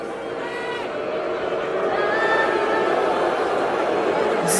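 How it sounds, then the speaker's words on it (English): A crowd at a WWE wrestling event booing, a dense sustained roar of many voices at a fairly steady loudness, with scattered chatter and a few laughs inside the din. "they're booing America at a WWE event"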